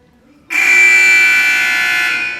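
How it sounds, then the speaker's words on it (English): A malfunctioning scorer's table buzzer at a basketball game blares suddenly and continues as a loud, steady electronic drone, sustained without a break to the end. "we are having some buzzer malfunctions, ladies and gentlemen"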